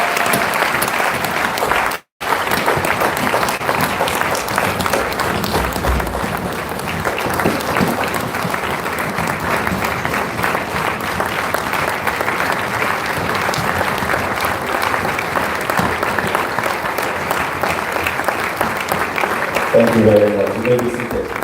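Long, steady audience applause at a 60th birthday symposium, a dense, continuous round of clapping with crowd murmur that carries on for about twenty seconds, broken only by a brief dropout early on.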